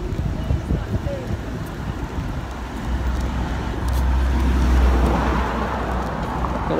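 Busy road traffic in New Southgate, London, rumbles steadily with passing cars and wind buffeting the microphone, swelling louder toward the middle.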